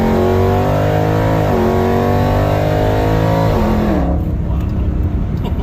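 A 1000hp Jeep Trackhawk roars hard through a 50 mph pull on a street, engine pitch climbing steadily with a brief dip at a gear change, loud and close from inside the cabin, then fading into road and wind noise.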